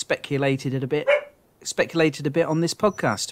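A pet dog barks indoors, short sharp yaps heard beneath a man's steady podcast speech.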